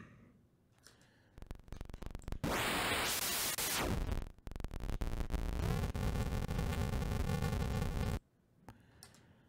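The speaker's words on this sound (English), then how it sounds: "Static, generate static interference." Static crackle and hiss comes from the noise oscillator of a Reason Thor synthesizer, played in bursts of harsh, dense buzzing and white-noise wash that start and stop abruptly, loud and alone.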